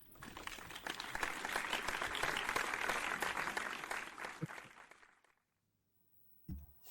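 Applause at a virtual ACM-W Europe tenth-anniversary event greets the chair, a sustained burst of clapping that fades out after about five seconds, followed by silence and a brief knock.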